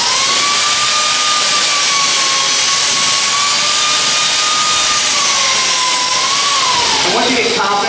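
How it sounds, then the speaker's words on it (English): A belt-driven power carving tool cuts into hard ash wood, a loud, close, continuous high whine with a steady tone that wavers slightly and drops off near the end as the cut changes. "It's got a belt drive, so even like a hard piece of wood like ash, it's a hot knife through butter."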